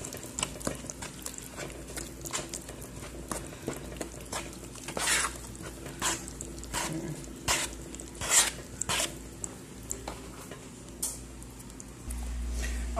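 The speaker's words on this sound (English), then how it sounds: "I just want to mix everything together. Use the spoon." A spoon stirs wet and dry banana loaf batter in a bowl, giving soft, wet, irregular clicks and scrapes at close range, with sharper knocks scattered across the whole stretch and no talking.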